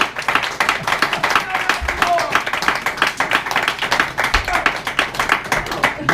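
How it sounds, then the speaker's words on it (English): Scattered audience clapping at an improv comedy show, a thin patter of hand claps under ongoing talk and stage voices rather than a full burst of applause. "Can I get some applause, please?"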